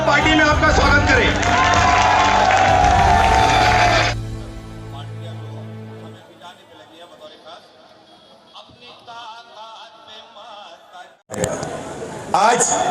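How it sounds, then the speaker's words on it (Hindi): Crowd at a party rally applauding and cheering loudly for the first few seconds, then fading to a softer murmur of the gathering, with a renewed burst of crowd noise near the end. "जोरदार तालियों से पार्टी में आपका स्वागत करें।"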